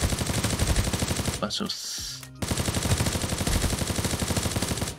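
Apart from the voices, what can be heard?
gunfire at a running enemy in the video game Knives Out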